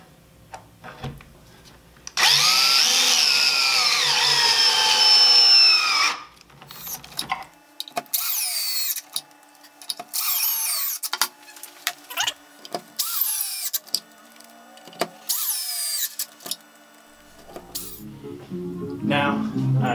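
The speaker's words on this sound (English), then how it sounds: "Install the pocket hole screws." A power drill drives pocket hole screws into wood while a bed is rebuilt into a Stickley-style bench, with a long whirring run followed by several short bursts, close by and without talk over them.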